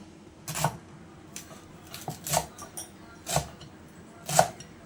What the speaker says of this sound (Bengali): এইবার আমি পাতাগুলোকে এইভাবে কুচিয়ে নেব